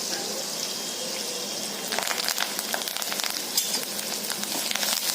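Crushed garlic fries in oil over a low flame, a soft hiss at first that grows into a busier crackling sizzle partway through, fairly close with a faint voice in the background.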